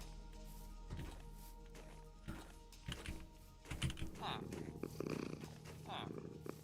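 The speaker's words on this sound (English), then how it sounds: "You purring at me, bud? That's really cute." A cat in the game Minecraft gives a soft, close purr, mixed with steady computer keyboard typing and a few light thumps.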